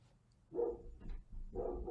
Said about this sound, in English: my dog is barking right now as you said that